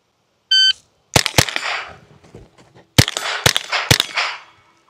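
A timed steel shooting run at an outdoor range: a short electronic start beep, then sharp gunshots in quick pairs and bursts with faint metallic rings from steel targets, loud and close.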